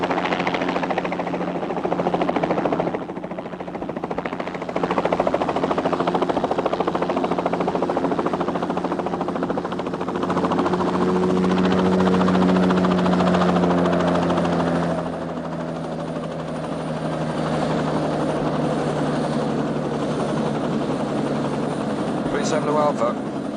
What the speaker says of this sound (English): It looks like a helicopter pickup for Ojuka